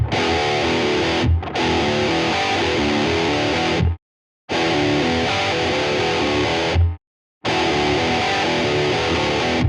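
Heavily distorted electric guitar plays sustained, fluid legato phrases in three loud bursts separated by abrupt silences.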